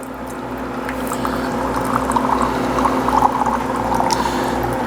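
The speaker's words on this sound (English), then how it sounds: "I'm going to put a little water in here" Water from a countertop reverse osmosis system pours steadily into a glass at close range, a continuous trickling splash over a low humming background.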